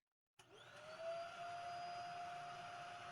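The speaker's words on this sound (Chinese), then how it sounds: "在吸尘器启动的同时" A vacuum cleaner starts abruptly and runs as a steady loud whine with a rising motor tone, used to clean a Samsung dryer vent, close and alone without speech.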